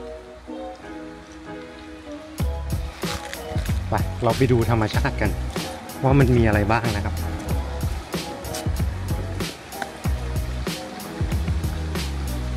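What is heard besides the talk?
forest stream flowing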